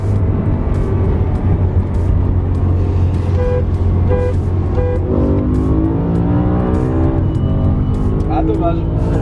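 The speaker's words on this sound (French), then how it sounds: "Vraiment troisième klaxon là." Car horn toots sound in short repeated bursts over loud, steady engine and road noise from a BMW M3 and Fiat 500 Abarth being driven hard, with voices talking throughout.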